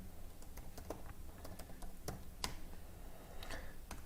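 Typing Java code on a computer keyboard, a soft, uneven patter of key taps and clicks, close but quiet, with scattered sharper keystrokes and short pauses, no talk.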